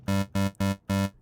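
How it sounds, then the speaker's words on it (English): Four short, identical buzzy notes from square and sawtooth waves in the Helm synthesizer pulse in an even rhythm, bright and harmonically rich, with brief silences between them. "We have a square wave here"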